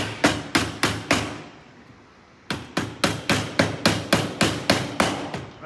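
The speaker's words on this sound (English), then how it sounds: "You just get a little hammer, tap them down like that." A small hammer taps the plastic sleeves of a rodent shield on a combine harvester, loud close knocks in an even rhythm, first three, then after a short pause a longer run of about eleven.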